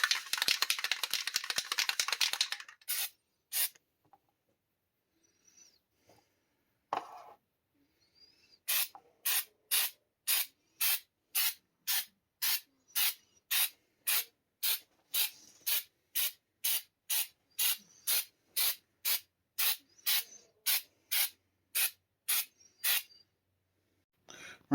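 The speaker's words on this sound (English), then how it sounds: "next I'm going to use some Dollar General flexible sealer to turn this all black and seal it up the rest of the way" Dollar General flexible sealer sprays in a long hiss over a handmade mask, then a series of short sprays follow in quick, regular bursts, spaced by brief silences and fairly faint overall.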